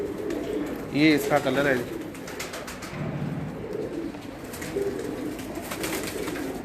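A female pigeon coos on a rooftop, a soft rolling call close by, with someone talking over it at times.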